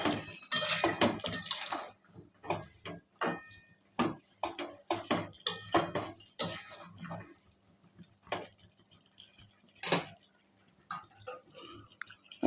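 A spatula stirs chopped tomatoes in a cooking pan, sharp close clacks and scrapes in irregular bursts separated by brief quiet gaps.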